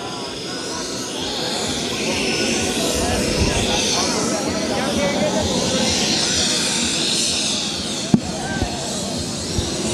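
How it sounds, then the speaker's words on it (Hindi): A political leader's helicopter prepares to leave a rally ground: its engine whines and roars steadily in the background while a crowd of supporters murmurs and a voice talks over it. "बसपा अध्यक्ष मायावती का जो हेलीकॉप्टर है वो इस समय यहाँ से जाने की तैयारी पे है"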